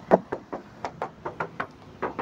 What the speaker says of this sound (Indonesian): Kita ketok-ketok biar teman-teman tuh sama-sama mengetahui ya, kalau mobil ini bener-bener masih ngaleng atau tidak.